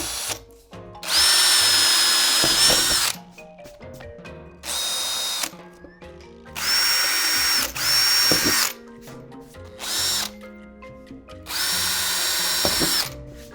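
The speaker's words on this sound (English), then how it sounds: "Let's go ahead, let's get on drilling" A power drill drilling acrylic sheet whirs through several bursts, each a few seconds long with a steady high whine, separated by brief pauses and light handling clatter.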